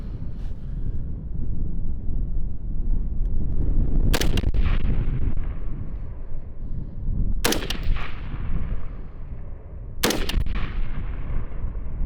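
Three sharp rifle shots from a Ridgeline RD-15 crack out at spaced intervals over steady wind noise outdoors, each loud and abrupt with a short tail.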